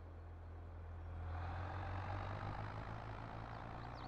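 Allis Chalmers tractor engine in Farming Simulator 22, a steady low idle-like drone that swells slightly in the middle and holds on, alone with no talk.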